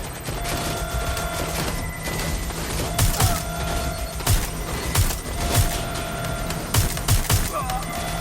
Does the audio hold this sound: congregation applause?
no